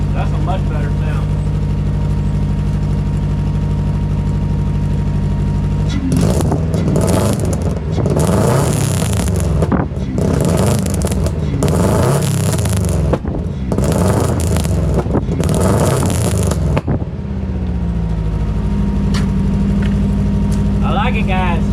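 A car engine revs hard in several loud bursts after a steady idle, then settles back to idling; voices talk nearby over the running engine.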